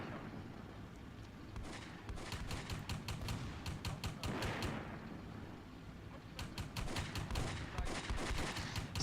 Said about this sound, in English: He's just shooting him in one spot, hoping to get through the armour.